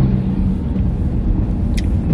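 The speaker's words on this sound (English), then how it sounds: "I'm trying to figure out why so much traffic is on the 340." Heavy road traffic on the 340 highway, a steady low rumble of passing cars heard from inside a vehicle, continuous with no voices.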